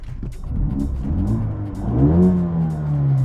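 A 2019 Mercedes-AMG A35 engine revs up under acceleration, its exhaust note rising steadily from a low rumble into a louder, droning roar, close and continuous.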